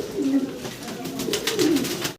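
A male pigeon cooing at a pigeon farm, with a close, rolling series of low throaty coos that run through the whole moment before cutting off.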